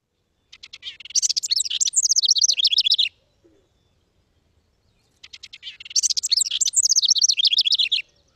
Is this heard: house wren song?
yes